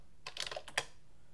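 A short, quiet burst of keystrokes types a command on a computer keyboard, about half a dozen close clicks in quick succession with no speech.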